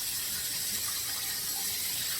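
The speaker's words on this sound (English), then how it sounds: "So rinsing it with cold water, and we'll start again." Cold tap water rinsing LECA clay pellets in a kitchen sink, a steady loud hissing gush with no pauses, close to the microphone.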